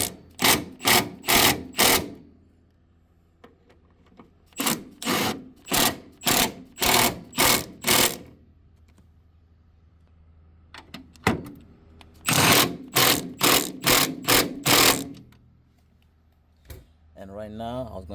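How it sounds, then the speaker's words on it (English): An impact wrench drives engine mount bolts on a 2012 Kia Soul 2.0L, firing three close, loud groups of rapid rattling hammer bursts with short pauses between the groups. "all you have to do right now is use your impact wrench to speed up the process just like so"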